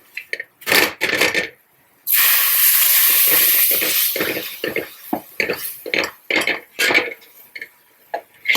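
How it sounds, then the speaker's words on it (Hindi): Water hitting a hot pan of browning Sindhi kadhi base bursts into a loud, sustained sizzle for about two seconds, fading as stirring clinks and scrapes continue close by. "थोड़ा सा इसमें पानी डालेंगे।"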